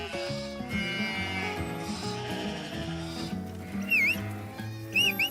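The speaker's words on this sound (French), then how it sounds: "Ici, on voit que les moutons se laissent guider, mais il n'y a pas de panique." Sheep being herded calmly give a few short bleats near the end, heard over steady background music.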